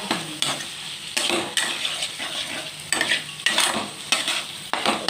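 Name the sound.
sautéing chicken mince in a pan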